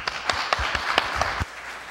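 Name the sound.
audience applause for candidates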